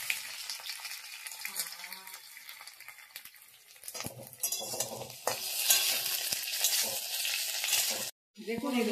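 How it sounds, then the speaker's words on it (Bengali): Capsicum fries in a pan with onions, making a close, crackling sizzle. Metal spatula scrapes and clinks against the pan as it is stirred, and the sound swells louder midway before a brief cut-off near the end. "এবার ক্যাপসিকামগুলো এর মধ্যে দিয়ে দেবে"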